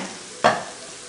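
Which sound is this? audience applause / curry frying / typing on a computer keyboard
curry frying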